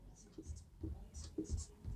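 Faint scratching of writing on a board during a Class 9 maths lesson on triangle angles, a few short strokes in quick succession, soft and close.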